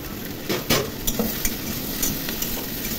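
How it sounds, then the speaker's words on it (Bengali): Brinjal and chopped onion fry in a pan, with a steady close sizzle and a few sharp stirring scrapes and utensil knocks over three seconds. "এর মধ্যে কুচি করে একটি পেঁয়াজ দিয়ে খুব ভালো করে ভেজে নেব"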